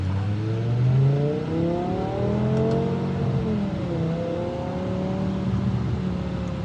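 A BMW M5 with a V10 engine pulls hard in its softest gearbox mode, engine pitch climbing through several gears with smooth shift dips, loud and close from inside the car, no talk.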